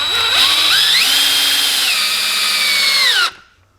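A power drill drives self-tapping screws, its motor whining loudly and close as the pitch rises and shifts under load for about three seconds, then stops abruptly, with no one speaking.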